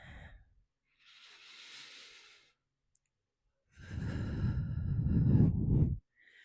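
During an evening yoga session, two long breaths are heard alone, a softer airy inhale and then a louder, heavier sighing exhale, with a tiny click between them.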